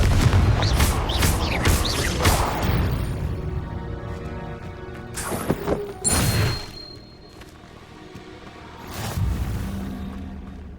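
Confringo blast spell from the video game Hogwarts Legacy, a string of heavy booming explosions and thuds, loud and close, followed by a few more sharp bursts after a short lull.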